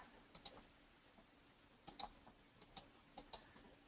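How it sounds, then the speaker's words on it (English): Computer mouse clicks, sharp and close, coming in small clusters of two or three quick taps separated by short quiet gaps over a faint background hum. "Right click and so left click,"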